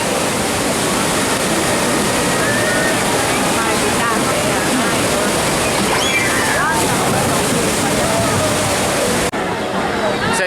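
Rushing water from the Ripsaw Falls log flume ride at Islands of Adventure, a loud, dense, steady roar of splashing and spray that fills the whole stretch with faint chirps and distant voices mixed in.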